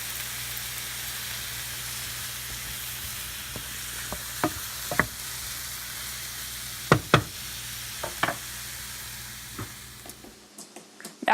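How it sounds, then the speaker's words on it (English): Mushrooms fry alone in a pan on the stove, giving a soft steady sizzle with occasional sharp knocks and scrapes of stirring, then falling quiet near the end; no voices. "Now we're going to dump the mushrooms into our pan. Just the mushrooms. We're going to let this cook for about 5 minutes until it gets good and soft."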